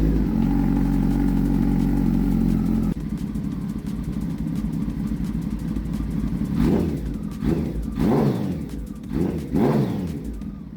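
A Kawasaki motorcycle with a previously blown engine, freshly filled with coolant, cranks over and catches, then runs with a steady loud idle and several sharp revs toward the end.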